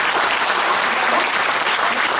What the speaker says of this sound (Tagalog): Yung palakpak sa Panginoon